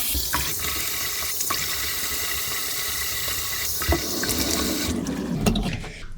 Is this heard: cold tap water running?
yes